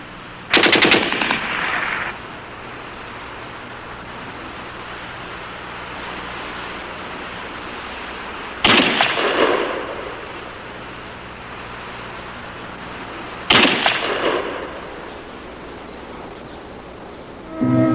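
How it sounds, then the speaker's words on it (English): Sporadic rifle fire from snipers dueling across a quiet World War II Soviet–German front line: three separate sharp shots, each with a long echoing decay, spaced several seconds apart over faint background hiss. "There was some casual shooting disturbing the quiet."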